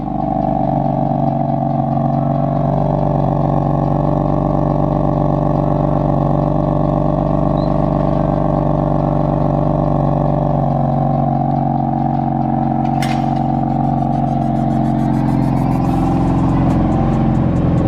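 A BMW M4's powerful engine idles with a steady, deep rumble and a low throb, close by and loud, with no voices.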